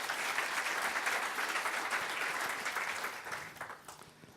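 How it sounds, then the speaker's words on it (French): Audience applause after a talk featuring Pepper the robot, a dense wash of clapping from a crowd that holds steady then thins out and fades toward the end, with no voices over it. "On peut l'applaudir"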